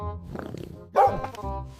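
A dog gives a few short, loud barks and yips close by, a brief burst of two or three calls with nothing else around them.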